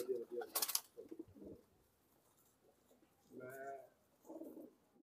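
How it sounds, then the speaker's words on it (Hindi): Soft coos from Dubwale and Kamagar pigeons in two low, burbling bursts, with a brief sharp noise early on and some faint background voices. "कितने अच्छे कबूतर हैं,"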